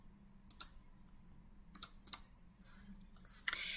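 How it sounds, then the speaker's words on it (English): A computer mouse clicking close by in a quiet room: a few sharp, isolated double clicks spaced irregularly over a few seconds, with faint rustling between them and no voice. "click on the image"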